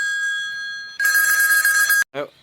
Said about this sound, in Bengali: বারবার ফোন আসছে আর কি তো ডিস্টার্ব হচ্ছে